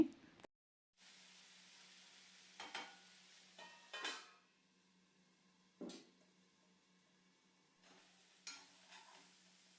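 Chicken frying in a pan for a diet chicken fry, with a steady low sizzle running throughout and several sharp stirring scrapes and clatters of a utensil; no talking.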